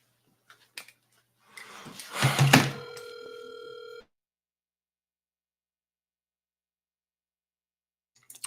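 A telephone line on a call-in talk show gives a short ringing tone after a few clicks and a rising burst of noise, fairly loud and alone, then silence.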